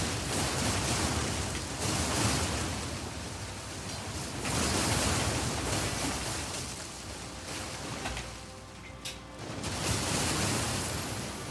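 A waterfall in Elden Ring roars as a dense, continuous wash of rushing water that gently surges and ebbs in loudness with no voices over it.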